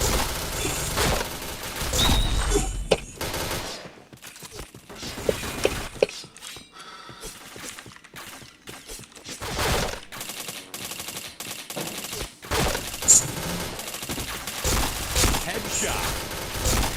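Point Blank shooter gunfire crackles in rapid automatic bursts and single shots, loud and dense, broken by brief quieter gaps.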